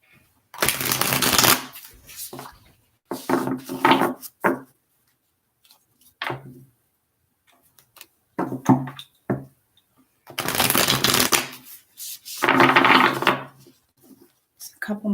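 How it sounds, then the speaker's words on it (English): Tarot cards shuffled repeatedly in loud riffling bursts, separated by short pauses and softer taps, close up with no talking. "Just a couple more shuffles here for you guys."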